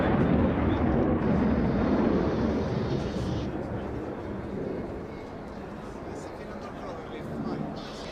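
A Panavia Tornado IDS jet of the Italian Air Force flying at an air show, a broad distant roar that swells and slowly fades, heard under a commentator's voice.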